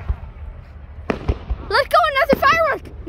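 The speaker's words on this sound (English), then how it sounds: "Let's go, another firework!" July 4th fireworks pop in a few sharp bursts, short cracks spaced close together, and then excited voices shout loudly over the quieter background.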